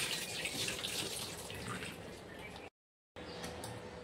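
Soaked kidney beans get rinsed in water, a close, soft sloshing and trickling with gentle splashes, cut by a brief gap of silence before the swishing resumes.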